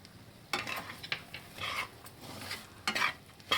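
A spoon mixes bhakarwadi filling with sugar and salt in a pan, giving soft intermittent scraping and stirring bursts over a quiet background, with a faint sizzle between strokes.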